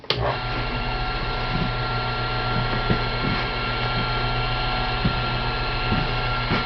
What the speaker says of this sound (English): We're going to fire up the lathe at 1800 RPM.